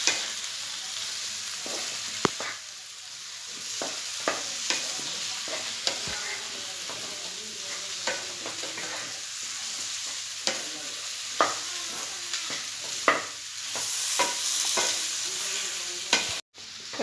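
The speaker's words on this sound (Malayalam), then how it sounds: "ഇനി ഇതിലേക്ക് നമ്മുടെ മസാല പിടിക്കുന്ന വരെ നല്ലവണ്ണം ഇളക്കാം." A spoon or spatula stirs masala into cooked tapioca in a pan, scraping with irregular clicks and knocks over a soft, steady sizzle, close and fairly quiet.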